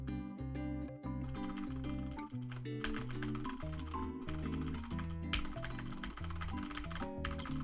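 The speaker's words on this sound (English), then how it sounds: "300 BPM word typing." Rapid typing on a computer keyboard during a skribbl.io drawing game, a fast clatter of keys under a steady run of stepped musical tones.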